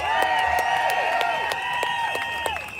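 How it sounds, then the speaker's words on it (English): A rally crowd applauds and cheers for itself outdoors, sharp claps over sustained whistles and shouting voices, loud and close, holding steady throughout. "No, seriously, give yourself a round of applause."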